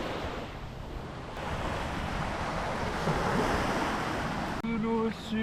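Sea waves wash onto a beach at Kamakura, Japan, a steady broadband surf roar that stays loud throughout, with a faint tonal sound near the end.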